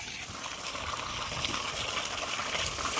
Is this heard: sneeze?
no